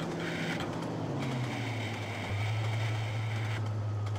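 A train in the railway simulator Trainz: A New Era, running on the East Coast Main Line, hums with a low steady engine tone that steps down as the brakes go on, under faint rolling noise with no talk.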